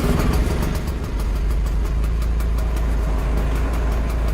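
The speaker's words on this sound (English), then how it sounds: "we're gonna start up the Hoffmann, which is of course with the inconveniently placed starter button by your hip" A post-war German Hoffmann car's engine cranks and catches, then settles into a loud, close, steady rhythmic idle that fills the rest of the moment.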